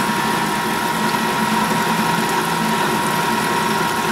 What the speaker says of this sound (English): this is water being pumped up out of a bucket down in here